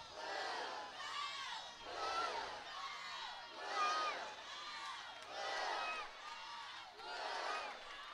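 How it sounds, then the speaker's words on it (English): A softball crowd at a Michigan Wolverines versus Iowa Hawkeyes game roars and cheers in repeated swelling waves, loud and sustained, with shouts and whoops blending into a broad wash of noise. "Crowd starting to get back into it"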